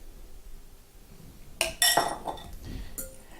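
Dressed beets tossed in a mixing bowl, giving a few short clinks and clatters of utensil against the bowl in a quiet kitchen, with no talking.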